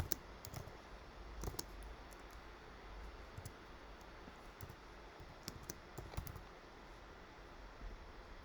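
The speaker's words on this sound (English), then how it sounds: "And we'll just type in our formula." Someone types a formula on a computer keyboard, producing quiet, irregular clusters of key clicks with short pauses between bursts, close but faint, with no voices.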